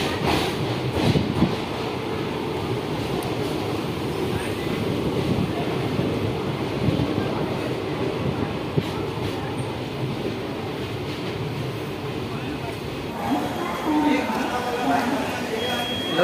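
A train pulls into Sambalpur railway station, a steady loud rumble of wheels and rolling carriages with clickety-clack and wind buffeting the microphone throughout.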